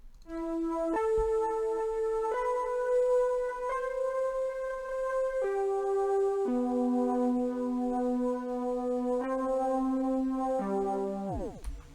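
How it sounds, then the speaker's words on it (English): A soft synth melody moves through sustained, stepwise notes with a warm lo-fi character, ending in a downward pitch bend. "I added a different little counter melody."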